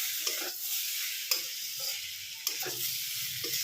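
Potatoes and prawns sizzle steadily in a pan, a constant hiss broken by a few sharp spatula scrapes and knocks as the mixture is stirred.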